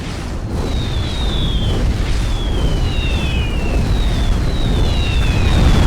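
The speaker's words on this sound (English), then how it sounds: "When a nuke comes online, use the command signal button to place a targeting marker. The nuke will automatically fire." A nuke launches and detonates in the real-time strategy game Supreme Commander: Forged Alliance, giving a sustained roaring blast rumble with faint high whistling streaks running through it and no talk.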